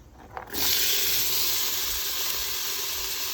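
Onions dropped into hot oil with roasted cumin seeds for chana masala, a loud steady sizzle and hiss that bursts in after a brief quiet start and keeps going close up.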